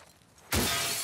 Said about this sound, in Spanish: Ah, ese cristalito también lo rompe.